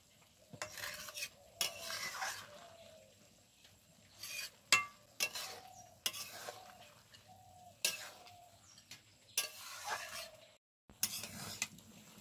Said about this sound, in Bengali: এবার এটাকে কিন্তু শিরার সাথে খুব ভালোভাবে মিশিয়ে নেব।